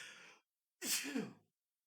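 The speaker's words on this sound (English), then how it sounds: "Keep sneezing, sorry." A single close sneeze, with a short breathy intake, a pause, then a sharp, forceful burst that trails off quickly in quiet surroundings.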